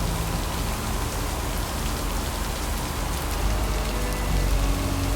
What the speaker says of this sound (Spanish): aquí nadie me cubre por la lluvia